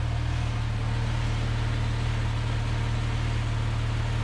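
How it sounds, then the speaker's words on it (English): A Porsche Cayman S idles with a steady, low, even engine hum. The sound stays constant and unbroken throughout, with no revving and no voices. "So this is what the car sounds like ordinarily."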